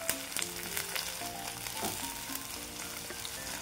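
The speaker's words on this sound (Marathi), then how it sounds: "छान कांदा आहे मी परतून घेते." Onions fry in hot oil with mustard seeds and cumin, giving a steady, close sizzle with occasional soft stirring scrapes and no voices.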